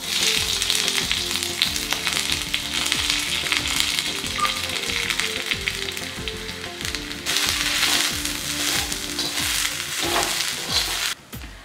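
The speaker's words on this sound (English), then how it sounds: "We'll now fry the sliced onions until they're brown." Sliced onions frying in half a teaspoon of oil for a Malwani crab curry, a loud steady sizzle with rhythmic stirring scrapes throughout, briefly dipping near the end.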